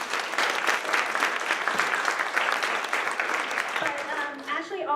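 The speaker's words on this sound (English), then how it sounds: "So if we could give her a round of applause." An open house audience at a law school gives a warm round of applause, many hands clapping steadily before the clapping thins out and a voice begins speaking at the end.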